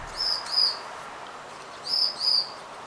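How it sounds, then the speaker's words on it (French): Small pet birds kept indoors give two pairs of short, high chirps, one pair near the start and another just before the end, fairly faint against a quiet room with no talking. "vous devez entendre aussi mes petits oiseaux qui eux sont contents qu'il y ait du soleil"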